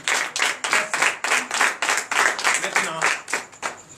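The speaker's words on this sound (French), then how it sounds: "Donnez encore de vive acclamation à notre Seigneur Jésus." A church congregation claps and cheers steadily for several seconds, dense rhythmic applause with raised voices mixed in, fairly close and loud throughout.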